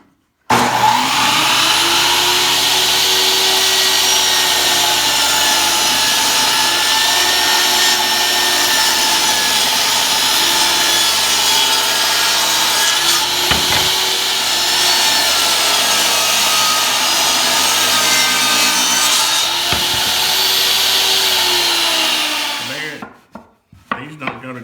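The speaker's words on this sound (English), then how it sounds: "what we're gonna have to do is cut us a miter here" A power saw makes miter cuts in wood pieces for a wedding cake stand, a loud, steady whining cut that runs nearly continuously before cutting off abruptly at the end.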